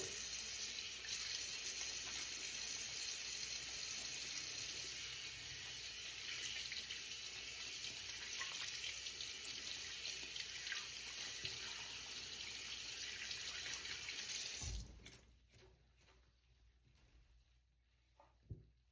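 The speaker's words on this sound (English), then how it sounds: "So just wash my hands" A bathroom sink tap runs steadily for hand washing during a morning skincare routine, a constant close hiss of flowing water that cuts off near the end, leaving quiet room tone and a small knock.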